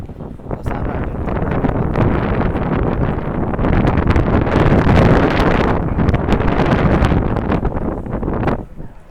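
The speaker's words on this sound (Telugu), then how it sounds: "దాన్ని టన్నల్ విండ్ అంటారు." Strong tunnel wind near docked cruise ships in Old San Juan, Puerto Rico, loudly buffeting the microphone in a continuous roaring rumble for about eight seconds before it drops off.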